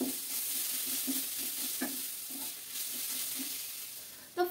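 Food with spices fries in a pan for a leafy green dish, a steady hissing sizzle under rhythmic scraping stir strokes, ending in a sharper clink of the utensil.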